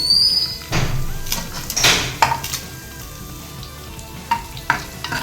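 Fennel seeds, cinnamon sticks and cloves fry in hot oil with a soft sizzle, punctuated by several sharp clinks and scrapes of a utensil against the pan.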